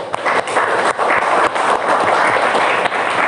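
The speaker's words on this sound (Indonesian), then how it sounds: "tepuk tangan dulu" Students in a chemistry classroom give a sustained round of applause, a dense, steady wash of many hands clapping close by with no pauses.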